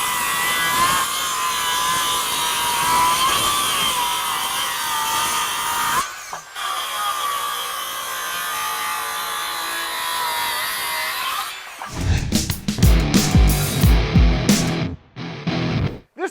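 RIDGID R8656 18V brushless 6.5-inch subcompact circular saw cutting wood: a loud steady whining blade drone through the cut, a brief lower-pitched pass, then rattling clatter and clunks as the cut finishes and the saw winds down.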